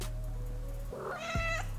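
A cat meows once, close and clear, over a steady low electrical hum in a quiet indoor room, with no one speaking.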